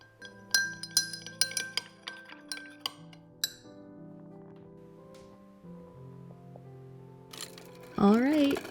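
Vietnamese iced coffee stirred in a glass with a spoon, giving a run of bright clinks and taps against the glass in the first few seconds, close and fairly loud, followed by quieter swirling with a sharper clatter near the end.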